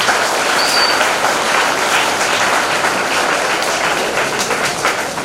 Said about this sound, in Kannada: ಎಲ್ಲ ಟೀಚರ್ನವರಿಗೆ ಮುಖ್ಯವಾಗಿ ಒಮ್ಮೆ ಒಂದು ಕೈ ಚಪ್ಪಾಳೆ ತಟ್ಟಿ